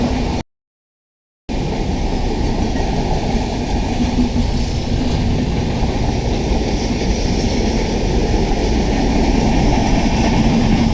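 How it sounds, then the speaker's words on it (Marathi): A Madgaon–Diva passenger train rumbles steadily past at close range in the Konkan monsoon, a continuous heavy roar with a short dropout near the start. "समोरून मडगाव दिवा पासिंग होते गाडी."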